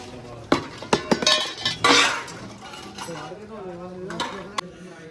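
Volunteer sevadars washing utensils in a village langar kitchen, with pots, pans and cutlery clattering and clinking in scattered sharp knocks, a few loud bangs early on, over a continuous murmur of voices.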